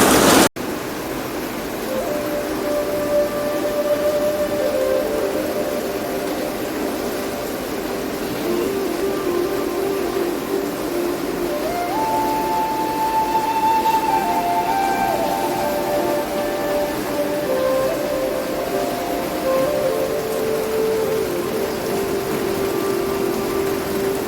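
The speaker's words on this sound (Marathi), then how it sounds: "तुफान पाऊस सुरू आहे." Heavy monsoon rain pours down in Mumbai as a steady, dense roar, continuous and fairly loud throughout, with faint tonal sounds drifting in the background.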